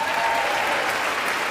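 A large audience at the State of the Union claps steadily and loudly, a dense, continuous wash of applause with no pause.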